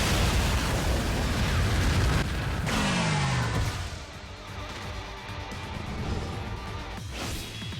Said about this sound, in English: And here's the soul bomb.